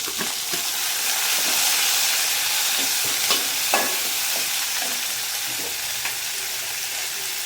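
Onion and garlic sautéing in a pan for a banana flower kootu, giving a steady close sizzle and hiss with soft scraping stirs throughout and no talking.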